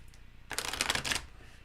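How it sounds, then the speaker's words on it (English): Tarot cards get a single quick riffle shuffle lasting under a second, close and fairly quiet in an otherwise still room. "One more shuffle."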